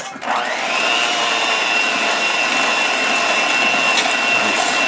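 An electric mixer whirs steadily through cookie dough with an egg added, a loud, even motor whine that starts abruptly and holds unbroken for several seconds.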